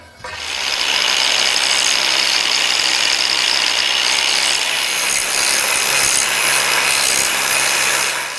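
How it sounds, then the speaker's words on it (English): Handheld grinder grinding down the end of a metal piece: a loud, continuous harsh whine and rasp close by, starting abruptly and holding steady for several seconds before easing off, with no talking. "I'm going to shorten its length ever so slightly on one end here and just sort of grind it down"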